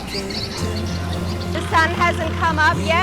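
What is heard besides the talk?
birds singing at dawn at Thai morning market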